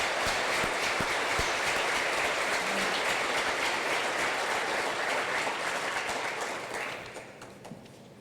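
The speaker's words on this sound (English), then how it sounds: "Join me in a round of applause for tonight's speakers, Kevin Graves, Christian Weber, and Keisha Patterson" An audience at a Gold Star family dinner at the National Infantry Museum applauds the evening's speakers, dense sustained clapping that fills the room, then thins and fades out toward the end.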